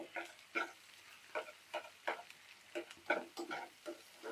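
Potatoes stirred in a pan with cumin, coriander powder, salt and turmeric: repeated scraping and stirring strokes at an irregular rhythm over a faint sizzle, close and fairly quiet, no talking.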